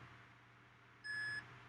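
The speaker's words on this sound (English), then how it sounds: "We can hear beeping on the NAS." Steady high electronic beep from the buzzer of a TerraMaster F5-422 NAS after a drive was pulled from its RAID5 array, sounding once for about half a second over a low hum.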